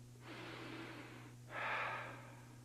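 Person breathing freely through the nose after using a nasal spray: two long, soft airy inhalations close to the mic, the second stronger, over a low steady hum with no talk.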